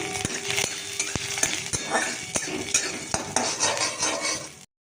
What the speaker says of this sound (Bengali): আর একদিকে শিমগুলো ভাজতে দিচ্ছি।